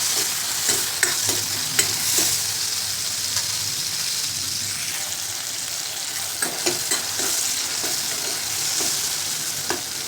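Tomatoes with salt cook in a pan, a constant close sizzle broken by irregular scraping taps from stirring.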